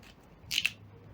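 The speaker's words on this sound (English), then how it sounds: "So once done, I'm going to cut the beetroot in half." A small kitchen knife slices a peeled beetroot in half on a board, giving two quick, crisp cuts close together amid an otherwise quiet room.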